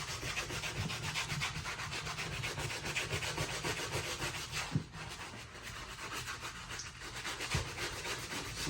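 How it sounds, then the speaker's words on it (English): Dior sneakers get scrubbed with cleaner to lift scuff marks: a brush rubs back and forth in a brisk, continuous, close scratchy rhythm, with a short knock midway and no voices. "Sometimes you gotta add a little bit of extra cleaner when they're really, really dirty. And just scrub down."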